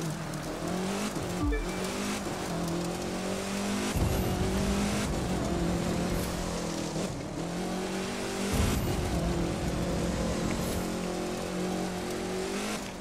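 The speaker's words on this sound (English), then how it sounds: "Just tripping, basically just cruising." Racing-game car from The Crew 2 cruising down a mountain road without nitrous, its engine droning steadily with shifting revs and brief tire-squeal bursts, loud and continuous throughout with no talk.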